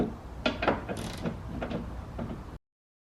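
A ratchet clicks in quick rapid runs while backing out a size 10 bolt inside the door of a 2013-2018 Toyota RAV4, close and clear with brief pauses between bursts and no talk.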